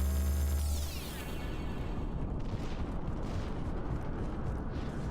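A bomb shot and exploding in Mass Effect 3 among ruined overpasses, a descending electronic sweep giving way to a sustained low rumbling roar.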